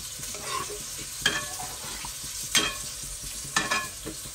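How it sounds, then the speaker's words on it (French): Red beans being stirred in a cooking pot, soft wet scraping and clinks from a spoon at steady intervals over a faint simmer, quiet and close with no talking. "On mélange un peu."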